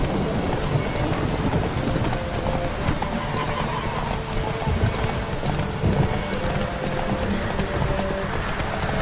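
Roach the horse gallops in The Witcher 3, with steady hoof clip-clops and a whinny over a dense, constant wash of rain and rumbling thunder.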